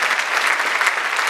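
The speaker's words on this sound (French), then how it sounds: "Vous pouvez vous applaudir." An audience applauds steadily at a Téléthon 2013 evening show opening in Peyrestortes, a dense, even wash of many hands clapping close and loud throughout, with no voices over it.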